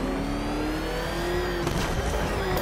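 The Batmobile in the video game Batman Arkham Knight drives with a steady engine drone that rises in pitch as it accelerates, followed by a brief burst of clatter near the end.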